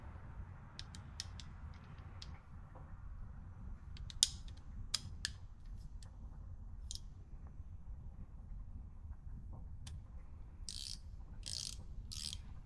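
A 3/8 inch drive quick-release ratchet clicks in a few short bursts over a quiet, low background hum. Scattered sharp ticks are followed by a faster run of clicks near the end.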